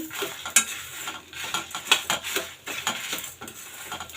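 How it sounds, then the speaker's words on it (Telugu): Garlic cloves sizzle in a hot pan while a spoon stirs them in steady, repeated scrapes and clinks, close and fairly loud with no voices. "ఇప్పుడు మనము వెల్లుల్లిపల్లి వేసేసుకుందాము వెల్లుల్లిపల్లి వేసేసుకుని కలుపుకుందాము"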